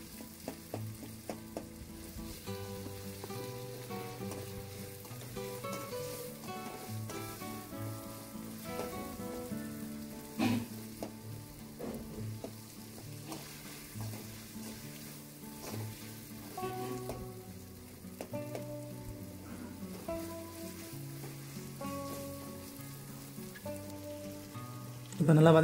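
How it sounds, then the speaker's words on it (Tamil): Three tomatoes sauté in a pan for Tamil-style brinjal katta, giving a steady, soft sizzle that runs under continuous background music for the whole stretch, with a louder bump at the very end. "தக்காளி ஒரு 3 தக்காளி ஆட் பண்ணால் போதும் போட்டு நல்லா வதக்கணும்"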